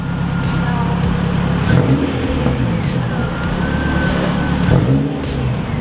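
The engine of a Nissan 240sx project car revs up and drops back in repeated rises, loud and close, with a few voices speaking over it.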